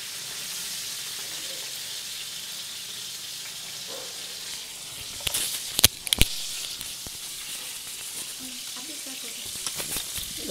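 Prawn vada, a Kerala-style fried snack, sizzles in hot oil with a soft, steady crackle throughout, punctuated by a couple of sharper spatters midway and faint kitchen clatter.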